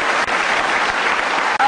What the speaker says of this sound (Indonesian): Kasih tepuk tangan dong, bisa berbagi kebaikan.